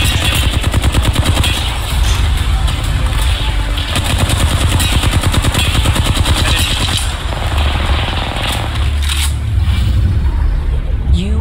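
Rapid automatic gunfire in the video game Apex Legends, loud sustained bursts of rattling shots nearly continuous, with a brief lull near the end.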